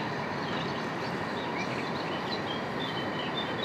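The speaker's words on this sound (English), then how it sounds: "There goes the train, off to Lausanne." A train rolls past near Lake Geneva, heading toward Lausanne, a steady, broad rumble that holds evenly throughout at a moderate distance, with faint high chirps over the top and no talk.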